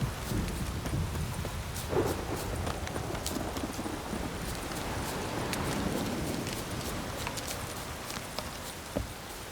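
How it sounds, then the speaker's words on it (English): Steady heavy rain pours in The Witcher 3, with horse hooves clip-clopping through it and a faint rumble of thunder, a dense wet wash of sound with no speech. "This downpour's a bastard"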